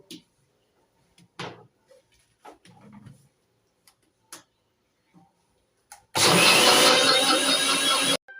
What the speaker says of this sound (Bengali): ঢাকনা লাগিয়ে মিক্সার করে নেব তো